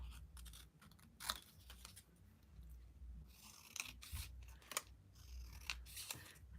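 Scissors snipping paper pieces for a scrapbook layout, close and quiet, with irregular crisp cuts and soft rustling between them, no speech.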